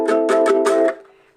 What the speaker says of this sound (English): Okay, the open ukulele sounds like this.